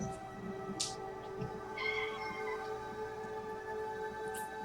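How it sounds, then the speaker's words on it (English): A cat meows a couple of times indoors in an apartment, the calls moderately close and mixed with steady background hum and household noise. "cat."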